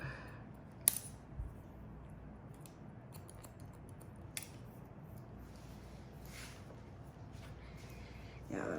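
Scissors cutting hair during a gray-blending haircut make a few faint, crisp snips scattered across a quiet, hushed room.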